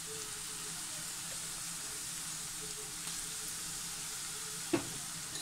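Ginger, garlic and green chilli paste sizzling in hot oil for a Thalassery chicken dum biryani, a soft steady hiss with one sharp utensil tap near the end.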